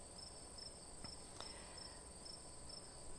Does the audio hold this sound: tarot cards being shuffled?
no